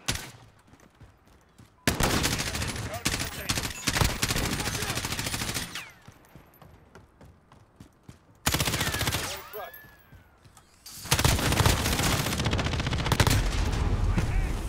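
Heavy gunfire in a Modern Warfare deathmatch, with long sustained bursts of automatic fire in several loud stretches separated by brief quieter gaps.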